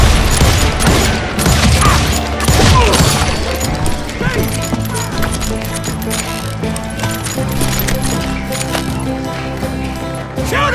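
Dense bursts of gunfire from a band of hired gunmen in the Western shooter Call of Juarez Gunslinger, sharp shots crowding over a constant busy game mix and music, with voices heard in the din.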